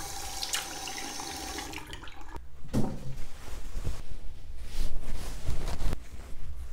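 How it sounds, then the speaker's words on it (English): Bathroom tap water running into a sink while makeup cleansing balm is rinsed off a face, a steady stream at first, then broken splashing and dripping as hands scoop water, close and moderately quiet. "I'm just gonna wash it off with the water now."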